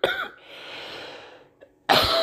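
A man coughs in harsh bursts, one strong cough at the start, a raspy wheezing breath, a small catch, then another loud cough close to the microphone.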